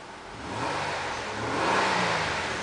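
A 2009 Nissan Maxima's 3.5-litre V6 engine revs up steadily, its droning roar rising and swelling through the middle before easing slightly, heard from close by with no talking.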